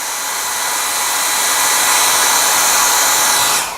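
Close and loud, a hair dryer runs on its high setting to dry fresh paint, giving a steady broad rushing blast that builds slightly and then cuts off at the end, with no speech over it.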